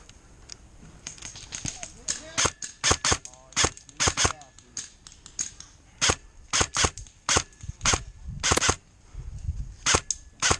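Video game gunfire from survivors crackles in sharp, irregular single shots and short bursts, some nearer and louder, over a low background bed.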